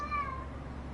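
A short, fairly quiet cat meow sounds once, a brief falling cry at moderate distance with no talking around it.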